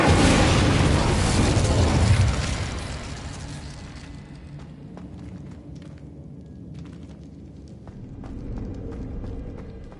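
A fiery Incendio spell blast in Hogwarts Legacy on PlayStation 5 bursts loud and broad for about two seconds, then decays into a rumbling tail with scattered clicks and a faint swell near the end.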